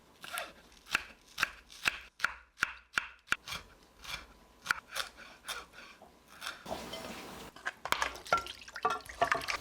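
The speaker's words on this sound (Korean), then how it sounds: "대파는 이 정도는 이제 갈비찜 넣을 거, 뭐 양념장에 넣을 거 이렇게 해서 잘라 보겠습니다." A knife chops green onion on a cutting board for braised short ribs and seasoning sauce, giving a quick series of sharp, close taps with short pauses, then a brief rustle and more rapid cuts.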